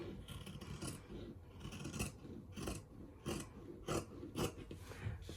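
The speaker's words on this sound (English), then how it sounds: "we're going to use regular scissors to just trim" Scissors snip and rasp through fabric, trimming an in-the-hoop embroidered sleep mask, in a steady series of short cuts, close and fairly quiet, with no talking.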